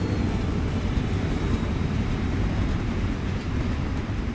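A freight train in the video game Train Fever brakes hard, giving a dense, continuous rumbling roar that stays loud and steady throughout with no talking.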